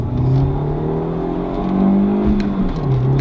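A BMW E36 car accelerates hard, its engine note rising steadily and loud and close, with a brief dip near the end as the revs change, and no voices over it.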